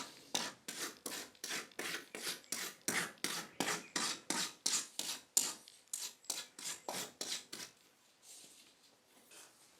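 Steady back-and-forth rasping as rough edges are smoothed on a crash-damaged MGA car body panel, about twenty even, close strokes in a regular rhythm that slow and fade toward the end.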